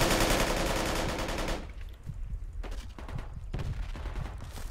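Rapid bursts of assault rifle fire in the military shooter Project Reality, loud and close in the first stretch, then sparser, more distant shots with echoing reports.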